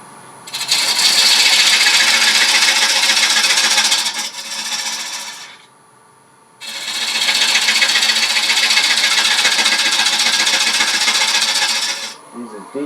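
A wood table lamp part spins on a lathe while a gouge cuts and rounds the profile, giving two long, loud, steady rasping scrape passes separated by a short quiet gap.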